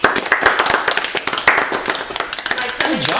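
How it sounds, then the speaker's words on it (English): Tabletop Dungeons & Dragons players clap for themselves, a loose burst of close hand claps mixed with talking and laughter. "everyone clap for yourselves"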